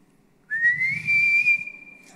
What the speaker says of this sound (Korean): 호루라기를 불죠